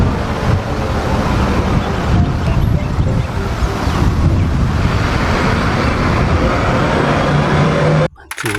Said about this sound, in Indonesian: Wih, ada mobil bus.